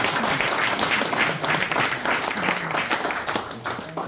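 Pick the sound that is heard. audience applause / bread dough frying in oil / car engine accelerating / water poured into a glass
audience applause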